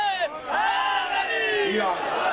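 A crowd at an Islamic religious sermon chants slogans in unison, loud drawn-out shouted voices rising together nearby in two strong bursts.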